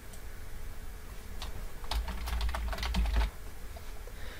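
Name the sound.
typing on a computer keyboard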